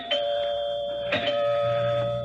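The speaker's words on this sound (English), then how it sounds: "Finally, the doorbell rang." A doorbell chimes twice, a clear two-tone ding-dong with a ringing sustain, close and loud in an otherwise quiet room.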